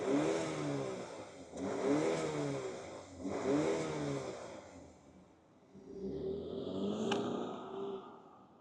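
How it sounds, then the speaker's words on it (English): A 2025 BMW X3 xDrive30 four-cylinder pulls away and drives, the engine rising in repeated revving surges through the gears at moderate loudness, with a brief dip between pulls and no talking. "let's fire up this 4-banger and see this roll."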